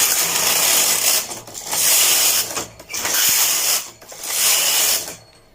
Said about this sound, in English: So we need 4 rows of our main carriage again.